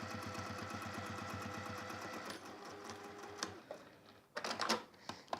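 Top stitching around a square handbag on a sewing machine: a fast rhythmic clatter of needle strokes for a couple of seconds, then slowing and stopping, followed by a few handling knocks and rustles.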